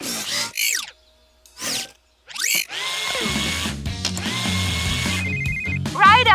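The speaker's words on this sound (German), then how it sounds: "Schraubenschlüssel." Cartoon ratcheting-wrench effect as a rescue pup repairs a vehicle with a flat tyre, a loud mechanical clicking run heard after brief voices and over music.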